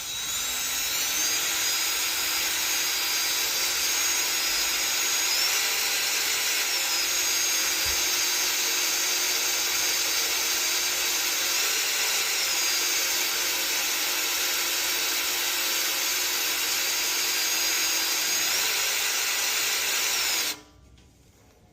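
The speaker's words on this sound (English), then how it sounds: "you can see that I've got the holes drilled" A power drill bores holes through a metal plate for a winch mount on a 2018 Honda Pioneer 1000, a loud, sustained high whine with slight pitch shifts that runs for about twenty seconds before cutting off abruptly.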